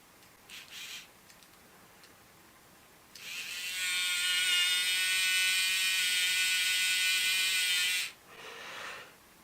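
A Dapol Britannia model locomotive motor, powered by a 9-volt battery held across the tender wheel pickups, whines loudly and steadily for about five seconds, a high buzzing drone that starts and stops abruptly, with brief faint clicks before and after.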